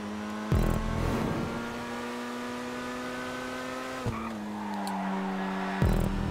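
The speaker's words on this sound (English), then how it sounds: "Nice drifts." A car drifts in GTA 5, its tires squealing in long steady tones over a droning engine, with a few sharp gear-shift or impact bursts breaking the sound partway through.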